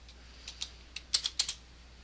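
Commands being typed on a computer keyboard: a handful of light, close keystrokes in an irregular rhythm, with a quick cluster of clicks near the end over a quiet background.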